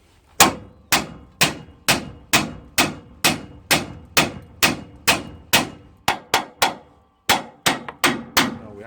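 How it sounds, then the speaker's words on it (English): A medium-sized hammer hammers on the front lower ball joint of a 1993 Ford Courier pickup: about twenty sharp metallic strikes in a steady rhythm, loud and close, with a brief pause before a final burst of blows. "I'm equipped with my medium-sized hammer. I'm going to be hitting it right there"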